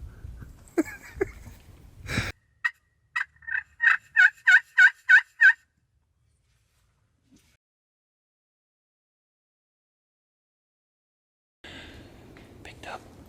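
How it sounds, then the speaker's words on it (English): A wild turkey gobbles in a rapid run of sharp, rattling pulses during a bowhunt in the woods, clear but not close. Low whispered voices come before it, then a long stretch of near silence. "Justin's pretty sure he's heard a gobble"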